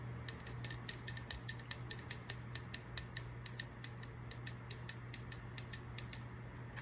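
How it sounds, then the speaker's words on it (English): A small bell rung to clear energy gives a rapid string of bright, ringing strikes in quick succession, loud and close, continuing for several seconds before fading. "I am going to clear the energy with the bell"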